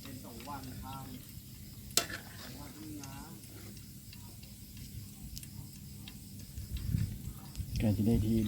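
Oil sizzles and crackles steadily as food fries in a pot, with a person talking over it and a sharp clack near the start.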